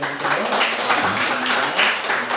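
Sustained applause from a church congregation during a children's Sunday service, dense and steady clapping filling the room without break.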